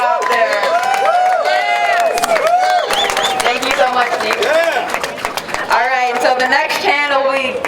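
Crowd at an anti-war protest in San Francisco claps and cheers loudly and continuously, with shouts and voices rising over the dense applause throughout.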